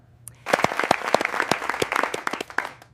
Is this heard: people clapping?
yes